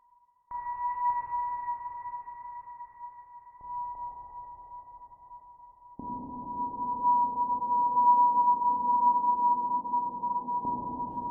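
A recording pitched down two octaves with added reverb and EQ adjustments, heard as a low steady sonar-like hum that drones alone, thickening and growing fuller and louder partway through as tonal changes are tried.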